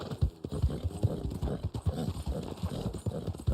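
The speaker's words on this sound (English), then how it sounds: "Oh, this is the Black Arabian horse." Hooves of a Black Arabian horse clip-clopping in Red Dead Online, a brisk, regular rhythm of close, distinct hoof strikes with faint background ambience.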